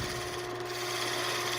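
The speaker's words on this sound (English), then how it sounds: "Come in and just rough it out with the gouge." Steady close rasping of a wood gouge roughing stock on a lathe, a continuous scraping hiss with an underlying motor hum, no voices.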